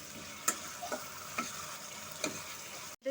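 Yogurt cooks down with onion and garlic in a pan over low-to-medium heat, a soft continuous sizzle broken by a few sharp spoon taps and stirs, close and fairly quiet, with no talking.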